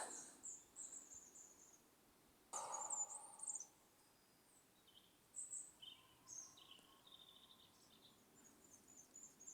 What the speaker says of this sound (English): Wonder if this microphone's picking up the birds.